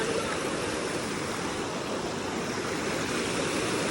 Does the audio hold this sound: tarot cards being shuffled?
no